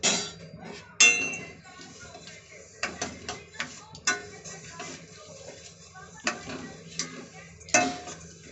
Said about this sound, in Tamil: ரவை நல்லா சூடாகிற அளவுக்கு நல்லா வறுத்தெடுத்துக்க போகிறோம்.